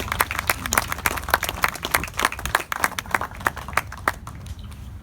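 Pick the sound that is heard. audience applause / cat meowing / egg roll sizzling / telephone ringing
audience applause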